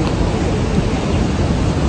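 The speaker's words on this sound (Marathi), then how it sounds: "तुम्हाला धबधब्याचा साऊंड येतोय काय नाही काय माहिती" The Lingmala waterfall near Mahabaleshwar gives off a dense, steady roar of rushing water that is loud and unbroken, with no voices over it.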